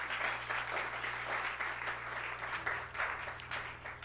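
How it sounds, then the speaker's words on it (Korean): A congregation at a youth church service applauds to welcome a young member forward. Sustained clapping fills the room for about four seconds over a low steady hum. "큰 박수로 한번 맞이하겠습니다."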